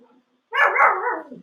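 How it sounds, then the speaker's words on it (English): A large pet dog gives one loud, close bark-howl, drawn out into a whining yelp, in an otherwise quiet room. "That's my dog barking."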